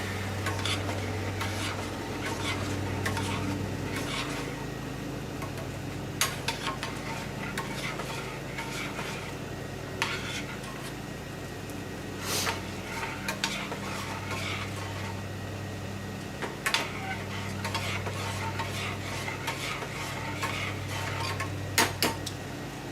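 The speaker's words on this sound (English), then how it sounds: "And then just mix that in." A spoon stirs buffalo chicken slider mixture in a pan, making faint, irregular scrapes and light clinks. A steady low hum runs underneath throughout, and no one speaks.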